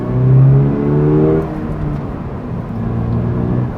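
Toyota GR86 accelerating at half throttle in second gear, a steady, close engine drone from inside the cabin that climbs in pitch, then eases and settles into a lower hum.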